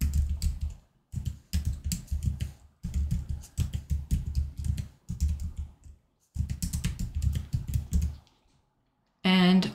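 Fast typing on a computer keyboard while working on a Canva design, heard up close as dense bursts of clicking keystrokes separated by short pauses, ending with a brief different tone.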